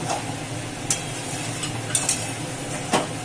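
Meat and potatoes sautéing in oil in a home kitchen, a steady low sizzle and stirring with a few sharp clinks of a utensil against the pan, close and continuous without talk.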